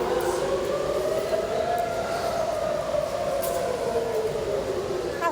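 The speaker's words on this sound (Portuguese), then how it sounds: "As sirenes soam e a orientação é buscar um lugar seguro." Air raid sirens wail across Israel, a continuous, moderately loud tone that slowly bends in pitch and carries with a distant, outdoor quality throughout.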